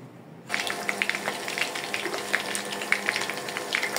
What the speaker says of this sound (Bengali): এইখানে আমার চিকেনে ভাজা শেষ হয়ে গেল, উঠায় ফেলাইলাম।